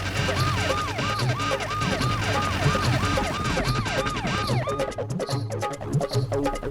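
A police siren wails during a chase, repeating a rapid rising-and-falling yelp over engine rumble, loud and close; the siren pattern changes partway through.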